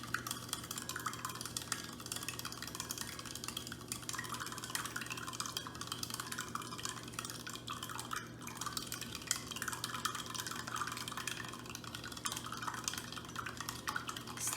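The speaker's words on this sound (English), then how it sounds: "Let's grab a straw to stir it." Straw stirring sugar in room-temperature water, a faint continuous swirling and clinking of liquid against the cup, quiet and steady with no talking.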